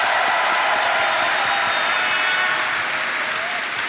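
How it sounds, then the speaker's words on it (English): An audience at TennoCon breaks into dense, sustained applause, a broad wash of clapping that holds steady and fades slightly at the end. "one more round of applause for the amazing sound team"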